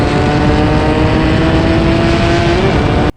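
Suzuki Satria two-stroke motorcycle with adjusted compression, piston and cylinder head, running hard in a high gear at around 94 km/h, a loud sustained buzzing engine drone with a steady tone, cutting off abruptly at the end.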